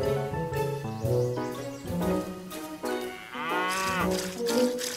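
A cow on a farm lets out several long, loud moos in succession, each rising and falling in pitch, close by with no talking.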